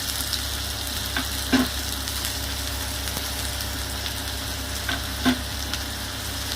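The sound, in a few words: onions frying in hot oil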